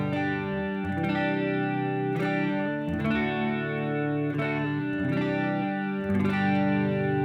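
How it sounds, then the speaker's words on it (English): Electric guitar with a wavy, shimmering chorus effect, strummed chords ringing out in a steady rhythm, close and fairly loud, no voices. "This is called a chorus sound, which has got a lovely"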